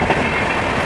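The Venkatadri Express superfast train rolls along the rails with a loud, steady rumble and roar of wheels close by, with no voices.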